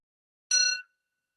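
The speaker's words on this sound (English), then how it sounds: "listening to the sound of the bell" Mindfulness bell struck once in a quiet room, a clear bright ring with layered overtones that rises suddenly, holds briefly and then fades away into complete silence.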